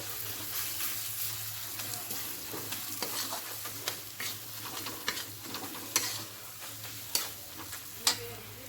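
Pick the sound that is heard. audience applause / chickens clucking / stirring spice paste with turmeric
stirring spice paste with turmeric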